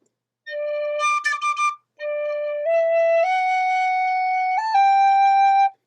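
Irish tin whistle playing clear, close, solo melodic notes with quick grace-note flicks and cuts, a short phrase followed by a brief pause and then longer sustained notes rising in pitch.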